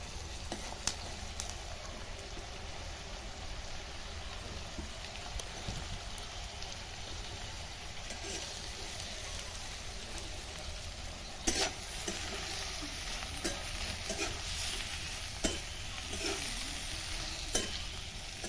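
Sliced bitter gourd fries with onions in ghee in a pan, giving a steady close sizzle. Scraping stirs and clatters break through now and then, and no one speaks.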